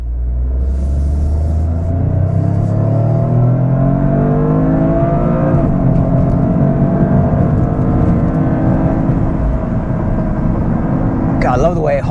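A 2025 Toyota GR in Premium Plus trim with automatic transmission revs hard while being driven, its engine note climbing steadily and holding high revs in a loud, continuous drone with a sharp shift near the end.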